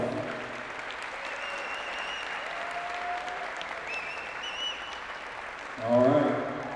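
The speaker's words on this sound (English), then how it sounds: "All right, let's give all our seniors a nice round of applause." A gym crowd at a high school volleyball exhibition game applauds the seniors in a steady, moderate clapping wash, with voices and faint whistles over it and a louder burst near the end.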